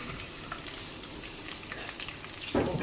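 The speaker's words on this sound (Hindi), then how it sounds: "देखिए साथ ही हमारा लहसुन पकना स्टार्ट हो गया।" Steady soft sizzling of garlic frying in hot oil, close up, with a brief louder crackle near the end.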